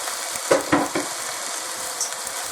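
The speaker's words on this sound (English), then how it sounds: "I'm going to lay my roast right on top of all that." A pot roast is laid onto a hot pan, bringing a steady close sizzle marked by a few quick clunks and scrapes near the start, then a soft tap later.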